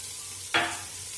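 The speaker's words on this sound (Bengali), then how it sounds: "এবারে আমি এর মধ্যে শাকটাকে ঢেলে দেবো" Leafy greens tipped into a hot frying pan for a vegetable khichuri, setting off a single sharp burst of sizzling that quickly fades into a quieter hiss.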